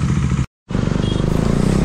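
A motorcycle idling right after a cold start, a loud close pulsing engine putter with even rhythmic beats, broken by a brief gap of silence before resuming steadily.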